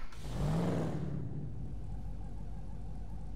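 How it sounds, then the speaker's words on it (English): A deep engine rumble from a Dodge SRT-8 muscle car in GTA 5 swells briefly at the start, then settles into a steady, low idle that continues on its own without voices. "I love the SRT-8 after it's uh, started and it's idling for a second."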